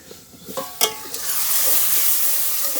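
Taro sizzles as it is sautéed in a pan, a steady close hiss that builds and holds with a few sharp stirring scrapes near the start.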